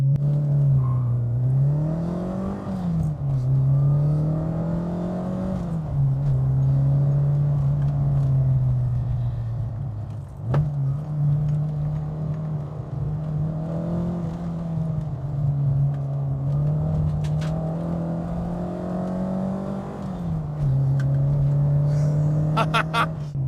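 A Fiat Strada 130 TC Abarth engine accelerates on the road, revving up and easing off several times as it shifts through gears, with a steady rumble underneath.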